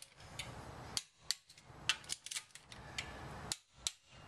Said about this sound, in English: And the torque wrench, you stop when you click.